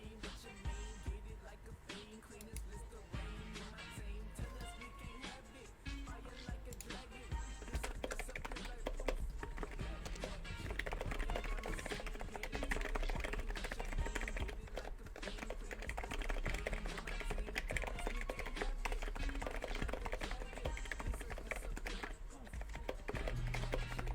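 Fast typing on a titanium-cased mechanical keyboard, a steady run of dense clicky keystrokes that goes on throughout, close and fairly loud, with some background sound and occasional talk mixed in.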